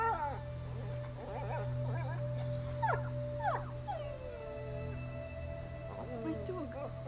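A dog whimpers and howls in the video game A Plague Tale: Innocence, giving several rising and falling whines over a low steady drone, with faint talk alongside.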